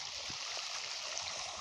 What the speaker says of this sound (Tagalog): oh, ang lakas ng tubig